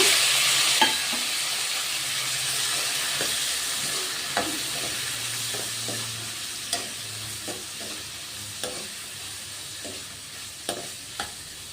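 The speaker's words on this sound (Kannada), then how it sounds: "ನೋಡಿ ಧನಿಯಾ ಮೆಣಸಿನ್ಕಾಯಿ ತೆಂಗಿನಕಾಯಿ ಎಲ್ಲ ಚೆನ್ನಾಗಿ ಫ್ರೈ ಆಗಿದೆ" Coriander seeds, chilli and coconut fry together in a pan, giving a constant close hiss of sizzling with scattered sharp scrapes and taps of a spoon stirring, and no voices.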